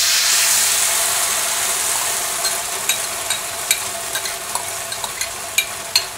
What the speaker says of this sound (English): and when the garlic becomes fragrant, we add the sauce